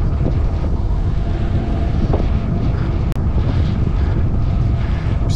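Strong wind buffets the microphone outdoors beside a river, a loud continuous rumbling roar with gusty surges throughout.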